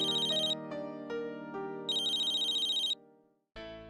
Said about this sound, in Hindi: पूर्वी का फोन इतनी रात को?